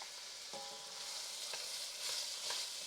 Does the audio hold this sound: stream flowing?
no